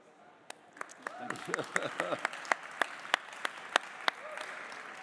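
Sparse applause at a payments conference session, with a spread of single hand claps that becomes a slow, regular clap near the end, while people talk underneath.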